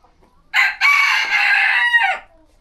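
A single loud, close rooster crow on a poultry farm keeping Australorp chickens, one long drawn-out call rising then trailing off, with near silence before and after.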